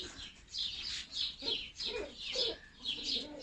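Birds chirp in repeated short bursts with soft cooing underneath, a steady outdoor chorus with no voices.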